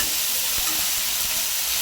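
Onion and ginger-garlic paste fry in a hot pan, giving a loud, dense continuous sizzle with soft stirring scrapes beneath, no talking.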